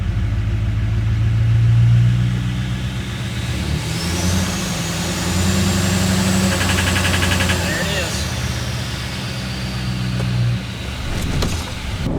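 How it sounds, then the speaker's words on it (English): An L5P Duramax diesel engine with turbo and injector failures runs just after starting, a loud, steady low rattling idle with a rising mechanical whine near the middle. It plays alone, close by. "we just started our L5P Duramax"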